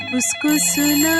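Electronic telephone ringtone tones in a Hindi audio drama, short bright warbling pulses that loop quickly, loud and close, alone with no voices.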